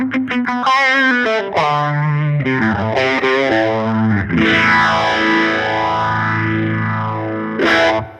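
Electric guitar played through a slow phaser on a pedalboard, a distorted, wobbly tone whose sweeping, swirling filter drifts slowly across sustained chords and notes, loud and alone with no talking.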